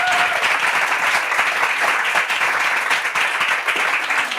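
Loud, close audience applause at a Bible quiz round: a thick burst of many hands clapping together that holds steadily for about four seconds.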